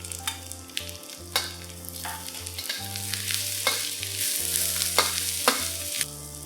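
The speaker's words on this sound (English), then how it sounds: "Add in the garlic and the ginger and continue to fry them till they are fragrant." Garlic and ginger sizzle in a hot pan, loud and close, with repeated sharp scrapes and clacks of stirring. A steady low hum runs underneath and no voice is heard.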